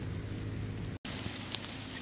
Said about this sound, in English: now it is just pouring rain